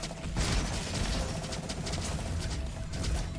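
Rapid gunfire from the trauma gun in RoboQuest, a dense continuous volley of shots with mechanical clatter, steady and loud throughout.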